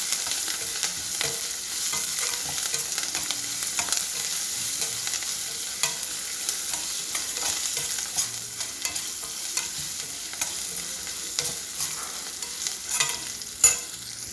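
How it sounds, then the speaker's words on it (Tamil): Curry leaves fry in hot oil for a South Indian rice dish, producing a bright, even crackling sizzle with frequent stirring scrapes and a louder clatter near the end, with no voices. "கருவேப்பிலை, இதை போட்டு நல்லா இந்த வறுக்க விடுங்க."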